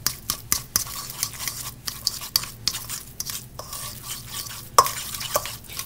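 A fork mashes cooked egg yolk filling for stuffed deviled eggs mixed with pesto in a bowl, giving soft irregular squishing and light taps of the tines against the bowl, close and fairly quiet.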